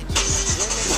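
A car engine cranking and catching, with a few rapid starter pulses rising into a loud, close running engine with a steady hum, and no voices.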